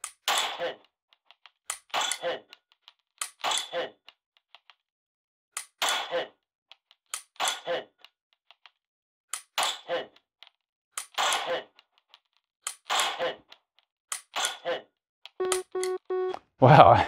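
Dry-fire practice with a pistol and Mantis laser training kit: sharp, isolated clicks spaced a second or two apart, each followed by short spoken remarks, ending with a brief electronic beep tone.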